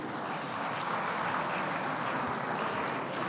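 An audience applauds as young performers come on stage at an opening ceremony, producing a short, dense, even wash of clapping throughout.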